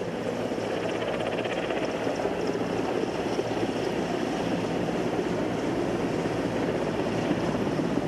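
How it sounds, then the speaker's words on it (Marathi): A prime minister's helicopter arrives at a helipad in Sindhudurg for a Navy Day event, its rotor and engine drone loud and unbroken from start to finish, with no voices. "पंतप्रधान नरेंद्र मोदींचं हेलिकॉप्टर आता सिंधुदुर्गात पोहोचलंय."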